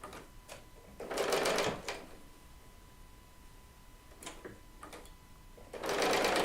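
Serger sewing machine chain piecing quilt fabric, running in two loud whirring bursts with quiet ticking and handling sounds between them, heard close up with no talking.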